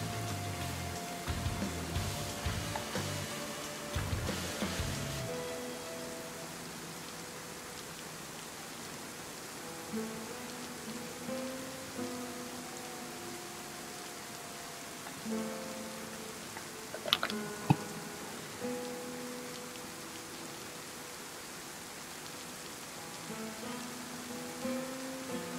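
Steady rain patters in the DayZ video game, a soft continuous hiss with faint tonal music notes and a brief sharp tick midway, no voices.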